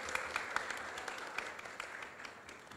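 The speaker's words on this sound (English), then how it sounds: "Let's give them a round of applause" Audience applause after a panel discussion at an education master class in Hong Kong, fairly faint and distant, a thin patter of clapping with a few sharper individual claps standing out, steady and soft throughout.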